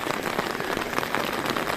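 Rain patters densely and evenly on an umbrella held close overhead at the beach in Veules-les-Roses, a continuous near hiss of drops with no voices.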